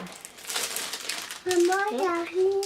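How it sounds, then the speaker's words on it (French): Close paper crinkling and rustling for about a second, followed by someone speaking. "Désolée pour le bruit de papier."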